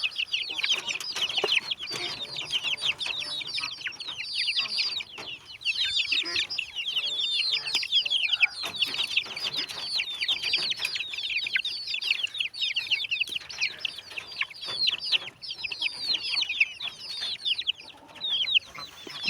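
A flock of farmyard chickens and roosters clucking and chattering continuously, many overlapping high cackles at moderate distance, with scattered thumps and rustles underneath.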